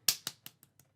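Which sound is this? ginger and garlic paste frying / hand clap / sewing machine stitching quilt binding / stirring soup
hand clap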